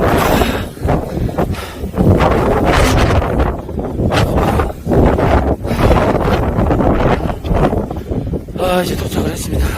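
Strong wind sweeps a mountain backpacking campsite overlooking Jirisan, roaring and buffeting the microphone in loud, gusty surges that rise and drop every second or two.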